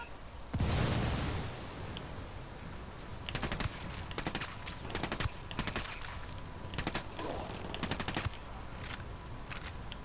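Frag grenade blast from Ghost Recon Wildlands opens with a loud broadband boom, followed by several sharp bursts of gunfire spaced over the next seconds, all close and loud with no talking.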